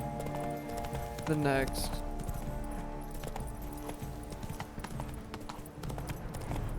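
Roach, Geralt's horse in The Witcher 3: Blood and Wine, gallops with rhythmic hoof clip-clops and a brief neigh, under game music and someone talking over the action.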